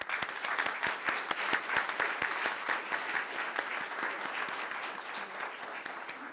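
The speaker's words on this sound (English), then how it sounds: "Can we give them a round of applause?" Applause from the audience at a Berwyn South School District 100 Board of Education meeting, welcoming the mariachi program director; steady sustained clapping from a crowd lasting several seconds, fairly distant and even.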